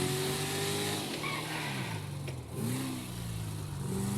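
Sports car engine in GTA 5, a Chevrolet-like car driving with steady humming revs that dip and climb again, near and continuous with no talk.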